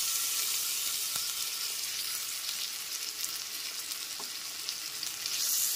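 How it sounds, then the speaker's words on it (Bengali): Ginger garlic paste frying with lightly browned chopped onions in a pan, a loud, steady, close sizzle with faint stirring scrapes throughout. "আদা রসুন বাটাটাও খুব ভালো মতো পেঁয়াজের সাথে কষিয়ে নিতে হবে"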